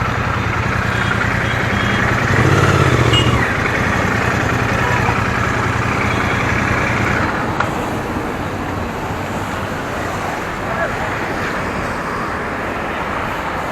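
A Royal Enfield Bear 650 Scrambler motorcycle engine idling close by, a loud, steady rumble that runs unbroken through the whole stretch.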